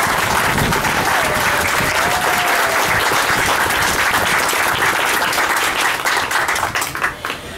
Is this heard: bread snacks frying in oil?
no